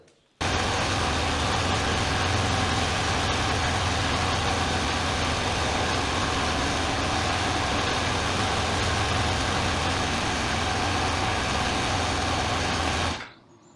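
A homemade mini loader's engine runs at a steady idle, starting abruptly and holding a loud, even rumble close by before cutting off near the end.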